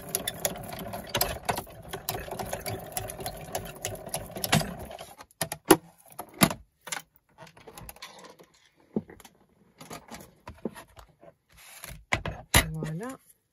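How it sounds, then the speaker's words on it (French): Paper feeds through a die-cutting and embossing machine with a run of close mechanical clicks and whirring for several seconds, then scattered clacks and handling noises, with a person talking alongside. "je passe le tout dans ma machine de découpe"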